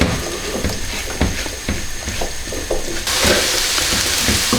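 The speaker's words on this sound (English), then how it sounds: "we're just going to be frying these potatoes for about 5 or 6 minutes" Steady, dense sizzling of potatoes frying in a hot pan, close and continuous, growing louder and brighter partway through.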